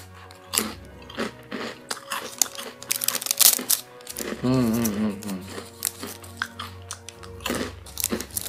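Kameda Happy Turn rice crackers bitten and chewed, several loud close crunches and crumbly chewing bursts, with a person talking briefly between bites.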